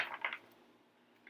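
A Buddha Tarot deck, edged in red, being shuffled by hand: a few quick, soft papery riffles close by in the first moments, then near silence.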